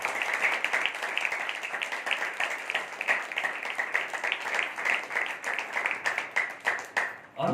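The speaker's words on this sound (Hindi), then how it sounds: "आइए एक जिंदा ताली परमेश्वर को बजाइए" A church congregation at a sermon claps together in a steady, sustained round of applause that is fairly soft and diffuse, continuing for several seconds before tapering off.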